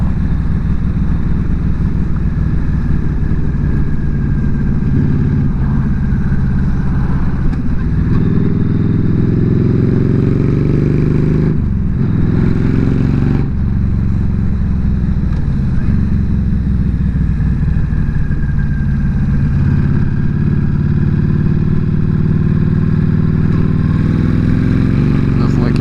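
A 2007 Yamaha V Star 1300 motorcycle rides over potholes on a rural road, engine droning loud and close with wind rush, a brief dip as gears shift, and occasional voice underneath.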